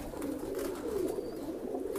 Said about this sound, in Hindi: तो चलिए इनको बाहर और निकाल के दिखाता हूँ मैं कल्दुमे कबूतर